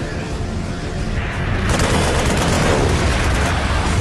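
Heavy gunfire and booming blasts from a World War 2 aircraft battle in a PlayStation game, a dense continuous barrage that grows louder and fuller partway through, with no speech.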